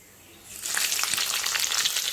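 Hot oil bursts into a loud, crackling sizzle after a quiet start as cumin seeds go in for dal tadka tempering, then keeps popping and hissing steadily up close.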